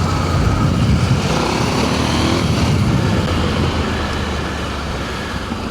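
A KTM 890 motorcycle rides a loose gravel road, its engine a steady close drone mixed with wind roar and crunching stones, holding level for several seconds before easing slightly.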